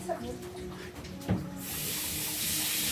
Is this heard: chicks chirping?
no